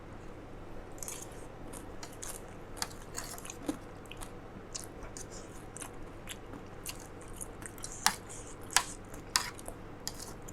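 Someone eats a spicy Lao salad of paddy snails, with soft crunching and chewing throughout and a few sharp, louder crunches or clicks near the end, all close to the microphone with no talk.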